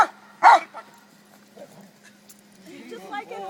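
A police K9 dog gives a couple of short, sharp yips, then softer whimpers, up close in a quiet space, with a low steady hum beneath and a person speaking near the end.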